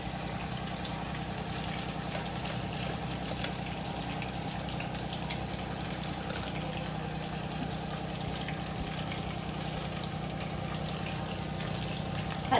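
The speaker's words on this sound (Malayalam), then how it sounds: "അപ്പോൾ ആ വെള്ളം ഒഴിച്ചു കൊടുത്തിട്ടുണ്ട്" Water pours steadily into a pot of chicken soup stock in a home kitchen, a continuous gushing stream that holds at the same level from start to finish with no talking.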